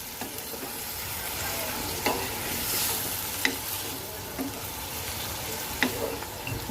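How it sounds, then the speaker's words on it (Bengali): Masala for a taro and bele fish chorchori is fried and stirred in a pan, with a steady low sizzle and soft, irregular scraping clicks from the spoon. "এবার আমি মশলাটাকে আরও কয়েক মিনিট কষাবো যে পর্যন্ত আমার জলটা শুকিয়ে না যায় আর তেল না ছাড়ে"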